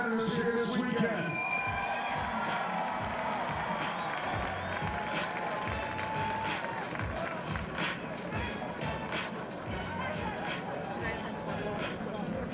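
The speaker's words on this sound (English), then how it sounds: "big round of applause for all your competitors here this weekend." Sustained applause and cheering from a big crowd at the Wodapalooza fitness competition in Miami, steady dense clapping with occasional shouts, loud and unbroken from start to finish.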